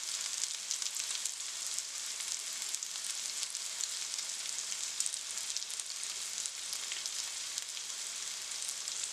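Salmon bites fry in olive oil in a pan with a steady, bright, crackling sizzle, close and continuous throughout with no talk over it.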